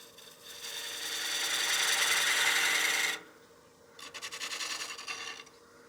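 A 3/8 gouge cuts a tenon on a wooden platter spinning on a lathe, giving a steady close hiss and rasp for about three seconds, then a pause and a shorter, fluttering scrape.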